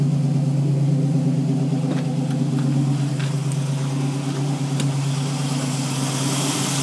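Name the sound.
1968 Ford Mustang Fastback engine running smoothly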